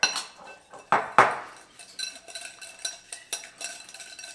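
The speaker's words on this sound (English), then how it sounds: "let's go ahead and whisk this together." A whisk clinks and scrapes against a bowl while mixing creamy horseradish sauce, a few sharp knocks followed by quicker light rhythmic taps, close and fairly quiet.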